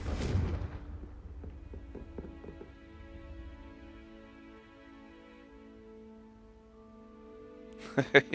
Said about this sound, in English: How do I get that chest? Confringo.